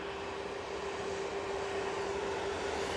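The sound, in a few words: Airbus A321neo aircraft arriving at Manchester Airport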